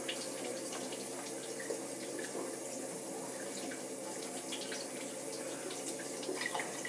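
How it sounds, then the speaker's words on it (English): Tap water running steadily into a sink while floury hands are washed, a constant close hiss with small splashing variations throughout and no talking. "Just let me wash my hands so I don't get flour all over my iPad."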